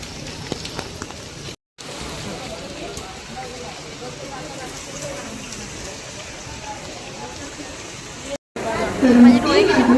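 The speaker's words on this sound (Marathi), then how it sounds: "पाऊस भरपूर चालू आहे" Heavy rain pours at a railway station as a steady, dense hiss that continues unbroken, with a voice talking over it and a brief louder patch near the end.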